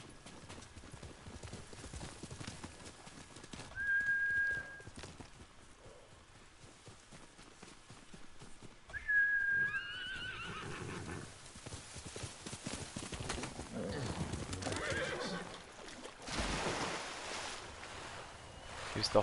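Hoofbeats of a horse ridden through shallow water in Ghost of Tsushima, quiet clip-clop with splashing and a couple of faint whinny-like tones, with low game ambience around it.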